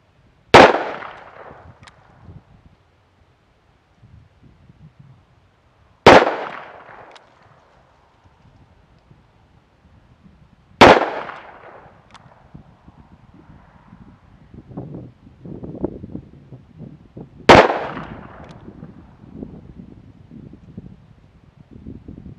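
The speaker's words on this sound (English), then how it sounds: "It's a 357, the 158 grain load, Hornady custom." Four sharp, loud revolver shots from a Ruger SP101 firing .357 Magnum Hornady Custom 158-grain loads, spaced several seconds apart outdoors, each cracking and decaying with wind noise and faint rustling between them.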